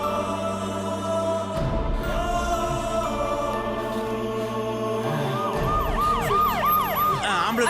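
Ambulance siren wailing loudly in a street scene from a Tamil drama after an accident, its rising and falling tone swelling and quickening near the end over steady traffic-like background.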